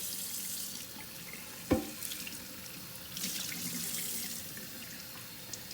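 Running tap water splashing into a sink with a sharp knock partway through, then swishing and rinsing sounds as a stone mortar (molcajete) is washed under the stream.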